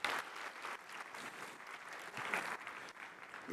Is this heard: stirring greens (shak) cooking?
no